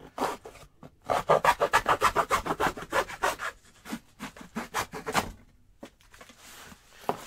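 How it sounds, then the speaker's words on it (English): Quick rhythmic sawing strokes cut through excess packing material used to ship a large picture frame with glass, close and loud, a fast run of cuts followed by a slower, sparser series. "we're going to cut off the excess here"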